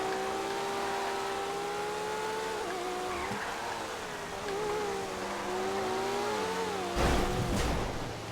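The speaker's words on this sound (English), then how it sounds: "Racing this Comet SR for position." A Comet SR sports car's engine drones steadily at racing speed in GTA V, its pitch rising and falling through gear changes, with a brief louder surge near the end.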